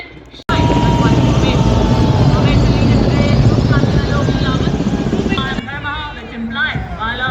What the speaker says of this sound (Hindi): fighter helicopter